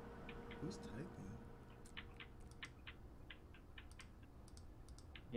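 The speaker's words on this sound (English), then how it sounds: "Yo, are you dancing with your keyboard?" Rapid clacking of a computer keyboard in short irregular bursts, faint and somewhat distant under a quiet background hum, as if picked up through an open microphone during an online game call.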